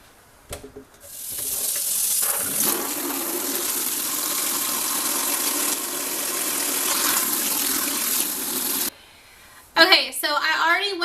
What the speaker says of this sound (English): turn on your sink and get your water as hot as possible and fill this bad boy up